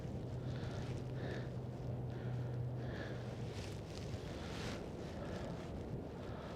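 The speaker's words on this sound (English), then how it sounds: "I'm beginning to lean into the wind here." Strong wind gusting on a night in Brooklyn, New York, buffeting the microphone, a constant rushing roar with a low hum underneath.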